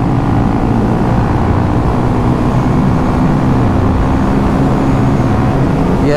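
A Honda CRF 300L motorcycle engine pulling hard in fifth gear at speed, a loud, steady droning roar with wind rush that holds constant throughout.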